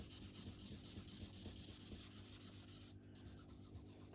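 A soft charcoal stick rubbed into a drawing gives a steady, close, dry scratching and rubbing texture with faint repeated strokes, heard alone.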